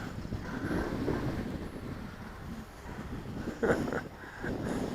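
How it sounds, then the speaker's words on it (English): Wind gusts buffet the microphone at an RC plane flying field where an Eachine P40 Warhawk flies, producing steady rumbling noise with a sharper gust burst near the end. "Boy, that wind's hitting it big time."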